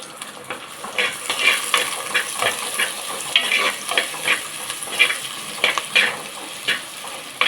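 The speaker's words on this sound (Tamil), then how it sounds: "இதெல்லாம் எண்ணெயில் நல்லா வதங்கட்டும்." Crushed onion and green chilies sizzle in oil for a pepper chicken rasam, a continuous close hiss broken by regular scraping strokes of a spoon stirring the pan, with no voices.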